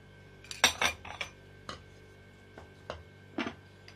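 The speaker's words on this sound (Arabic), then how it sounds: "هنا عندنا القزبر والمعدنوس ندقوق مع جوج ريوس ديال الثوم ديال فصوص" Coriander, parsley, garlic cloves and salt pounded together, giving a string of irregular knocks and clinks, some close and sharp, others softer, with quiet pauses between strikes and no talking.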